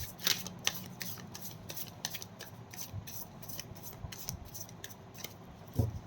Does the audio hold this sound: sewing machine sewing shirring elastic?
no